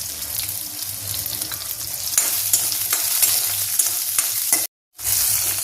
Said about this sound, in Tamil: சின்ன வெங்காயம் எண்ணெயில் போட்டாச்சு. இப்போ நல்லா இது ப்ரௌன் கலர் ஆகிற அளவுக்கு வதக்கிக்கலாம்.